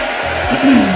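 A hair dryer blows steadily at close range, drying a freshly applied chalk transfer on a DIY sign board, its whirring airflow rising slightly in pitch and intensity partway through.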